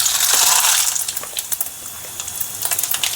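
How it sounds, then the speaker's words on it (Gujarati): Mustard seeds hitting hot oil, a burst of loud crackling sizzle at first, then scattered sharp pops and spits that continue at a lower level. "એક ચમચી રાઈ નાખું છું"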